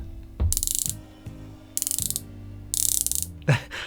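Three bursts of rapid, crisp ratcheting clicks from a unidirectional dive watch bezel on an Audaz Marine Master 300m, loud and close, with soft handling knocks between them.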